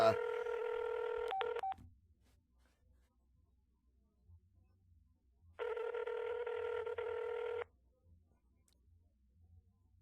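Two bursts of electronic phone tones, about two seconds each, separated by a quiet gap with a faint low hum underneath.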